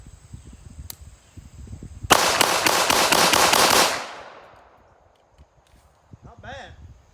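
Rapid fire from a Kimber Eclipse Target II .45 pistol at a shooting range, a quick string of about seven loud sharp shots with a ringing tail, and brief voice sounds afterward.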